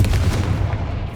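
A single close, punchy Confringo fire spell blast from Hogwarts Legacy, a heavy low boom that rings briefly and fades.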